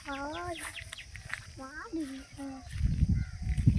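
Chickens cluck and call over someone speaking nearby, with a louder burst of rustling, scratchy noise toward the end.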